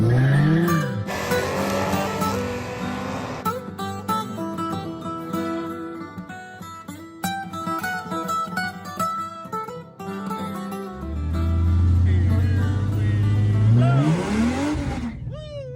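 A 1993 Ford Thunderbird SC Turbo doing a burnout on a burnout pad, engine revving and tires squealing in rising and falling waves, loud and close, mixed with music and crowd noise.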